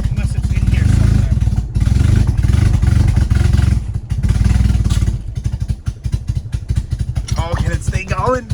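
A turbocharged project engine starts and keeps running with a loud, steady low rumble and clatter, then it drops to a choppier idle with a few sharp tonal squeals near the end.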